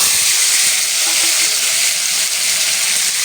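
Cut potatoes hit fully heated oil in a kadai for a Bengali prawn and potato curry, giving a loud, continuous bright sizzle and hiss that stays steady from start to finish.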